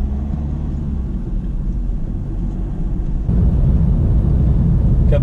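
A car rumbles along in low gear as it pulls onto a new road, its engine a steady low drone that grows louder midway as the driver shifts into second and accelerates.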